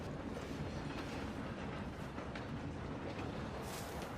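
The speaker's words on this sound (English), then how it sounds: "Come on, we need to stop this train." A steady, rumbling roar of a moving train in Red Dead Redemption 2, continuous broadband wheel and carriage noise with faint rhythmic clatter, loud and unbroken throughout with no voices.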